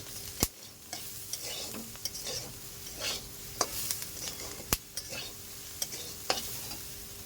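Spices, salt, sugar, chilli powder and turmeric being stirred into a curry in a pan, with soft scraping strokes and a few sharp spoon taps against the rim over a quiet, low sizzle.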